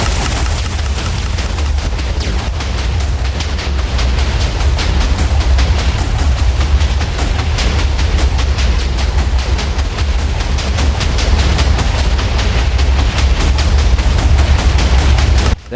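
A rapid-fire TNT cannon in Minecraft fires dense, continuous booming blasts in rapid succession, a relentless explosive barrage that rumbles loudly without pause for the whole stretch.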